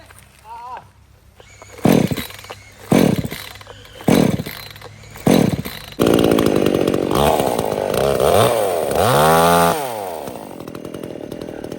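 A cordless battery chainsaw with an 11.5-inch bar, Pumpkin model 50384, revs in several short bursts, then runs continuously as it bites into tree branches, loud and close with pitch dipping under load.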